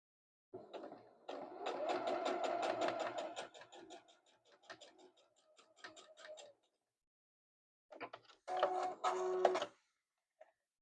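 A sewing machine stitches along a marked line for a handmade gift, running in a rapid rhythmic burst for several seconds, pausing, then starting again for a second short run; close and fairly quiet, with no talking.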